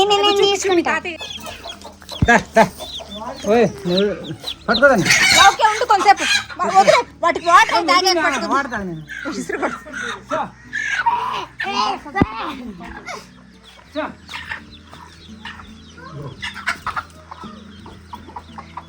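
Hens clucking repeatedly close by, with excited bursts mixed among people talking loudly over them throughout.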